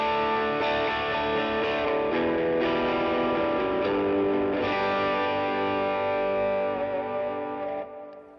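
An electric guitar plays through the first channel of an overdrive pedal on a budget pedalboard, sustained distorted chords ringing loud and close, then fading out at the end.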